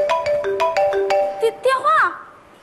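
A mobile phone ringtone plays a short, bright electronic melody of repeated rising tones, loud and close, ending in a quick warbling flourish before fading.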